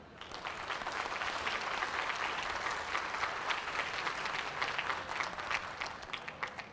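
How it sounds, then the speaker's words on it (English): An audience applauds in a ring at a school district livestock show for sheep and goats, steady dense clapping that holds for several seconds at a moderate distance before tapering slightly. "You may clap now."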